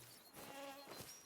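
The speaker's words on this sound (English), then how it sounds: "buzzing bee or mosquito" A bee or mosquito buzzes in the Hunter: Call of the Wild video game, in its Spain setting, a faint, wavering insect drone that rises and falls over a little over a second, with no talk.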